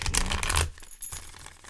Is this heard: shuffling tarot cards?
yes